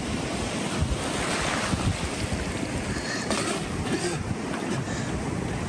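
Ocean waves wash and roll continuously under gusting wind that buffets the microphone, a steady, close, noisy surf with no voices.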